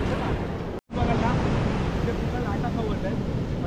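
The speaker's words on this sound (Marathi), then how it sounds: "लाटा खवत आहे" Waves breaking on a Maharashtra beach, a steady broadband wash of surf with wind buffeting the microphone, loud and close, briefly cutting out near the start.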